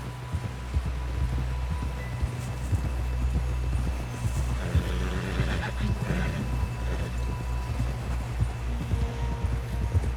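Horse hooves clopping at a steady trot in Red Dead Redemption 2, a close, regular rhythm of hoofbeats continuing for the whole stretch over low rumbling ambience, with a brief voice in the mix.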